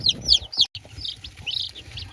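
Chicks from a hatchery peep in short, high chirps, a few quick bursts close by with brief gaps and faint low background rumble.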